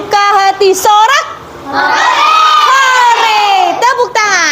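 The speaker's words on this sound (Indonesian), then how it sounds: "Kalau kau suka hati sorak." A classroom of children sing and cheer together, loud voices rising into a group shout of joy near the end of a clapping action song, with a teacher's voice mixed in.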